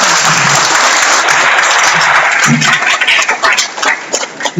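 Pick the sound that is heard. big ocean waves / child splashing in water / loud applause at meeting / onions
loud applause at meeting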